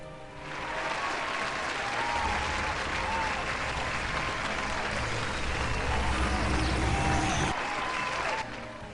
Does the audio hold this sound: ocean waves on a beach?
no